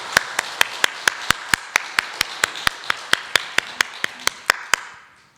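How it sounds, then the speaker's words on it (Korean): Churchgoers at a Sunday praise service clap in unison to a steady beat, about twenty sharp, evenly spaced claps over a soft room background, with a brief scatter of sound at the end. "우리 박수로 한번 축복하겠습니다."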